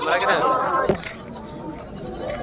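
A Sindhi Tapri goat gives a short bleat near the start, fairly close, with people talking over and around it.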